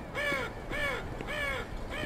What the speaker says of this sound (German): Raben.